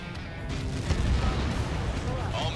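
A bunker buster bomb detonates in the Ace Combat 7 flight game, a heavy rumbling blast that swells and sustains for a few seconds with dense low boom, while game voice chatter runs underneath.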